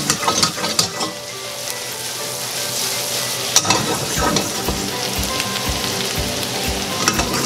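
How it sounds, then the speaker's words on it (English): Shallots and garlic sizzle in melted butter in a pan, a steady, bright frying hiss with occasional stirring scrapes, heard alone and fairly close. "Cook the shallots. I'm turning the heat down."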